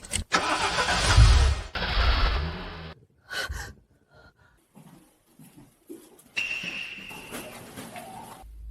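A car engine cranks and catches in two loud bursts, then cuts out, leaving quiet gaps with faint breaths or gasps and a later burst of mixed noise.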